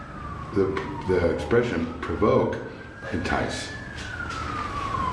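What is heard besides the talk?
emergency vehicle siren passing outside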